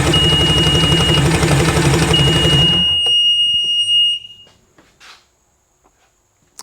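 A Sea-Doo GTX DI personal watercraft engine with its spark plugs removed, cranking over loudly and rhythmically for a compression test, a high whine running through it, before it stops abruptly and a few faint clicks follow.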